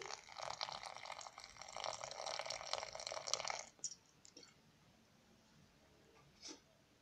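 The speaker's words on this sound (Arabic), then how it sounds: "ودابا غادي نزيد عليها الماء اللي سبق لي غليته ضروري خصو يكون مغلي" Boiled water poured from a kettle over dried chamomile flowers in a container, a steady gurgling stream for several seconds that stops abruptly, followed by a faint drip or clink.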